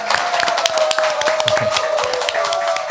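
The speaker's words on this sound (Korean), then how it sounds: "여러분의 힘찬 박수와 함께 시작하겠습니다." Studio audience clapping at the opening of a Korean talk show, brisk applause with individual claps standing out and a sustained tone running beneath it.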